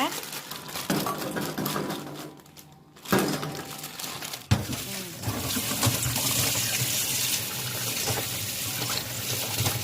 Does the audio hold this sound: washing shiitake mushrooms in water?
yes